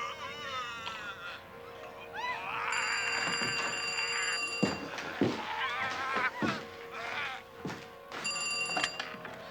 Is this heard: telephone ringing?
yes